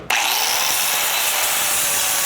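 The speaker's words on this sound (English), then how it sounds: "we're just gonna go ahead and grind up any sharp edges we left" Power grinder smoothing sharp cut edges on a steel differential drop bracket from a truck lift kit, a loud continuous abrasive whine that kicks in immediately and holds steady throughout.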